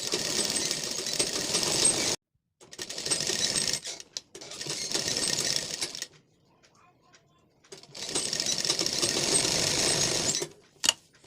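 Sewing machine stitching a lined blouse neckline in bursts of rapid needle chatter, close and clear, separated by short pauses and a few brief stops between runs.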